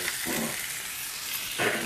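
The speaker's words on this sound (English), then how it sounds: "got a lot of veggies in a small pan, so I got to keep that pan nice and hot" Chicken and vegetables sizzle in a small, very hot pan, a steady broadband crackle and hiss with a couple of louder bursts as food is stirred.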